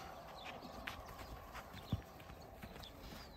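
Hooves of a purebred Criollo gelding clip-clop softly and unevenly at a walk, faint and somewhat distant, with a few sharper knocks standing out from a quiet outdoor background.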